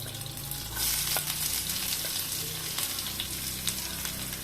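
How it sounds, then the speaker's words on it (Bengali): Onion pieces sizzle in hot oil with slit green chillies in a pan for red lentil dal, a dense continuous fry close by with scraping stirs and a low hum beneath, no talking. "পেঁয়াজটা একটু ভালো করে ভেজে নেব।"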